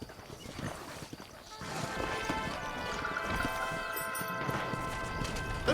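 Horse hooves clip-clop in the video game Red Dead Redemption. The steady trotting grows louder after a quieter start and continues under background game music, with little speech.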